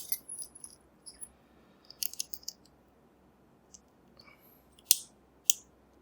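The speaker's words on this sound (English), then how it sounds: "let's get that C-clip off the back first" Small metal clicks and scrapes as a C-clip is pried off the back of a lock cylinder, in scattered brief bursts with a louder snap near the end, close and fairly faint.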